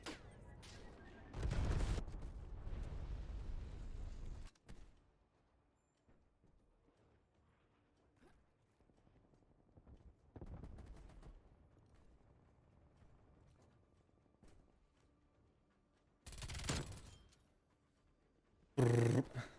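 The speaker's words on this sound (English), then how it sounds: "This literally is Mac 10 goes brrr" A Mac-10 submachine gun fires in Call of Duty: Cold War, with a long rapid burst early on, then several shorter sharp bursts spread across the rest of the clip over a low, quiet game background.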